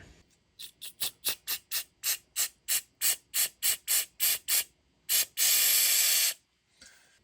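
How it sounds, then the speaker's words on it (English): A rapid series of short, sharp bursts of electrical contact cleaner spray in an even rhythm, then one long continuous hiss of spraying before it stops, cleaning crust off an old Yamaha DT250 motorcycle. "So just spraying that off actually cleaned it off pretty decent already."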